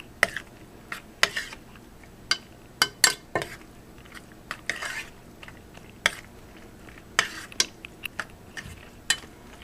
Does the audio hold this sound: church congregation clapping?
no